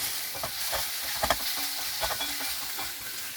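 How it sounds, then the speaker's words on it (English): Salted tomatoes for a drumstick masala gravy sizzle in a pan while a spoon stirs them, giving several quick scraping strokes over the steady frying hiss, close up with no voices. "I am adding in salt at this stage so that tomatoes get cooked faster. Stirring it in"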